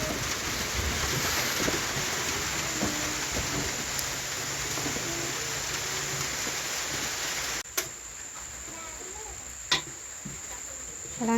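Evening rain falls steadily around a hut in a rice field, a soft, even patter with insects chirping and a few sharp clicks near the end.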